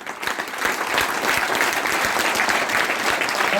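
Vigorous audience applause fills a motivational training session, a dense, steady wash of many hands clapping at full strength from start to finish with no talk over it.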